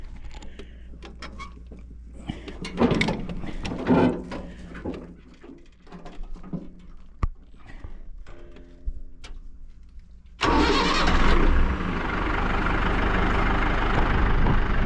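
An old tractor with a gear transmission cranks over with uneven bursts and clunks, then catches and roars into a loud, steady running engine close by.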